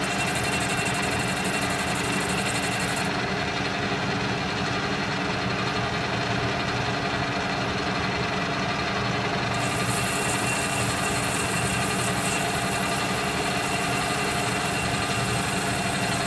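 Metal lathe taking a light cut on a hammer head in a workshop, a loud continuous motor hum and cutting drone, steady and unbroken throughout, with no talk.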